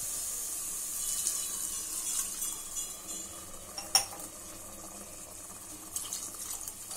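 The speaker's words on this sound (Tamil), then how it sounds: "இப்போ நம்ம இதில் தண்ணி சேர்த்துக்கலாம்." Water poured into a pot of chickpea kurma, a steady hiss of running water with a faint clink of a utensil partway through, close and moderately loud, no speech.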